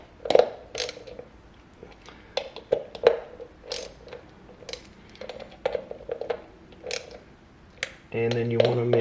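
A socket wrench tightens the front rotor bolts on a Jetson Bolt Pro, giving close, sharp ratcheting clicks in short irregular bursts, followed by a steady mechanical hum at the end.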